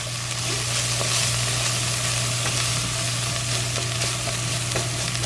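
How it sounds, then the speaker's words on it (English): A pot of chili base with a small pinch of red pepper flakes sizzles steadily in hot oil while being stirred, a continuous close frying hiss with faint scraping and a low hum beneath, no voices. "I'm going to give this a stir"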